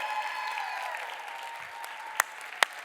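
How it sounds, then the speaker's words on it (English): Audience applause for a young performer named AJ at a speaking event, a steady wash of clapping that fades somewhat, punctuated near the end by two sharp, louder claps close by. "How about one more round of applause for AJ?"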